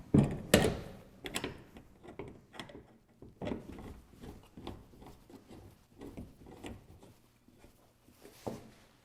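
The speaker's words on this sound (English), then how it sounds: "When I'm done, simply close it down and lock it in place. And we'll close the hood." The hood of a Karcher KM 130 sweeper is closed and latched, with a sharp knock at the start followed by quieter scattered clicks, rattles and rubbing from the machine's mechanism nearby.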